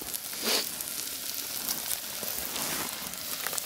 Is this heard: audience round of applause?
no